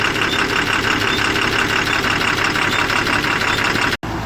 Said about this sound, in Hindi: ये गाड़ी इंजेक्टर फिटिंग के बाद हमने स्टार्ट किया है